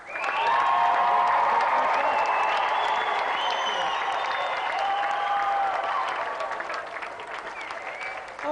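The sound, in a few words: studio audience applause for guests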